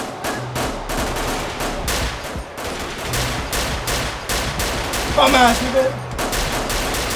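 Rapid gunfire from many directions in Grand Theft Auto IV, a dense run of repeated shots and bursts throughout, with someone talking briefly over the shooting.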